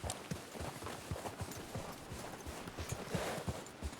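Horse hooves clip-clop at a steady walking pace in Red Dead Redemption 2, each low thud distinct and moderately close over a faint ambient background.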